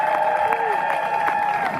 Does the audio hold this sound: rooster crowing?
no